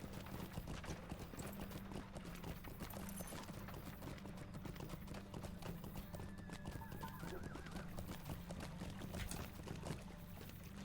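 Horse hooves clip-clop in a steady trotting rhythm while riding in Lord of the Rings Online, with an occasional whinny over a constant ambient game backdrop.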